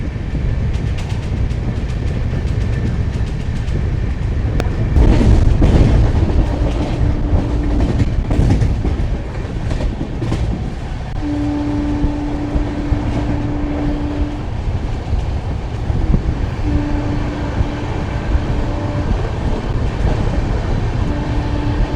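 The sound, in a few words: express train 22479 running at speed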